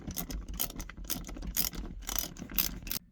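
Screws being driven in by hand on the shifter boot of a Freightliner Cascadia semi truck, a close, rapid run of clicking ratchet strokes in uneven bursts, ending abruptly.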